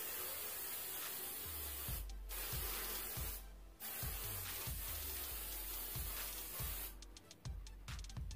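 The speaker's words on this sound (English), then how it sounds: "Let me grab some hairspray." Several short hissing bursts from an aerosol can of TRESemmé Extra Firm Control hairspray, close by, separated by brief pauses and a quick series of spritzes at the end.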